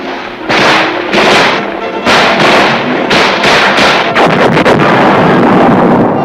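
An Army infantry division's 8-inch and 155mm self-propelled howitzers fire in a series of loud, heavy booms, several blasts in close succession ending in a rapid cluster, with buffeting wind on the microphone.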